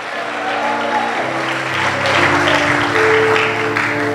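A church congregation applauding during a Spanish-language sermon, steady broadband clapping that swells slightly midway and holds for about four seconds, with voices and sustained tones mixed underneath.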